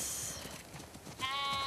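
A sheep bleats in The Last of Us Part II, a short wavering cry that rises near the end over a soft background hum.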